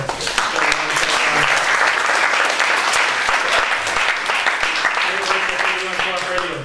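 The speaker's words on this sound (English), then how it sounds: "I think Red Eye deserves a round of applause as well" Sustained applause from a crowd, steady and dense clapping throughout, with some voices mixed in.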